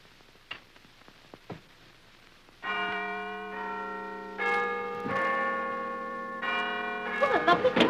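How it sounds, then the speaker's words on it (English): A General Electric electric doorbell plays a melodic multi-note chime, ringing out clearly in several sustained tones after a few faint ticks, fairly close and with no one speaking. "no, that's the doorbell."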